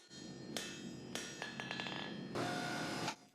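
Hammer blows on a Damascus steel chef's knife blade being forged, a sharp ringing strike, another, then a rapid cluster of lighter metallic taps and a longer bright ringing hit, loud and close with no talking.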